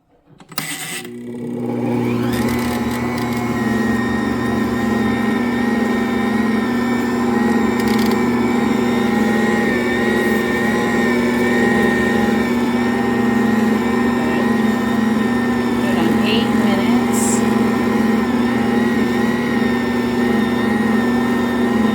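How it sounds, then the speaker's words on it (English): A stand mixer kneads bread dough, its motor starting up within the first couple of seconds and then running as a loud, steady hum with a constant pitch for the rest of the clip. "I'm going to go ahead and continue and start the kneading process"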